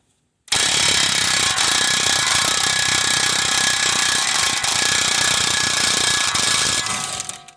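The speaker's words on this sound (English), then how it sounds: "now you're going to remove your axle nut right here" A loud, continuous hammering of an impact wrench working a 35mm front axle nut loose on a 2009–2017 Chevy Equinox, running steadily for about seven seconds with no talk before tapering off.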